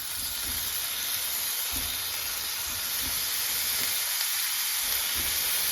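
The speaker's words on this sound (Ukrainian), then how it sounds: "викладаємо м'ясо у сковорідку" Meat sizzles in a dry, ungreased frying pan: a steady, close hiss of frying with faint low knocks underneath, continuing evenly throughout.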